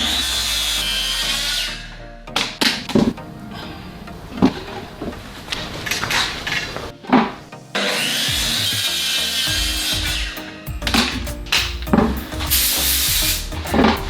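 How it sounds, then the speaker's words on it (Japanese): A hand saw cuts along a marked line on a wooden workbench board, rasping in long steady runs broken by short pauses and a few knocks, close and loud with no voices. "そしたら印つけたところをカットしていきます。"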